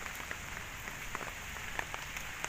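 Heavy rain patters steadily on surfaces in a Hong Kong village, a dense, even wash of drops with small sharper taps scattered throughout, moderately quiet and continuous.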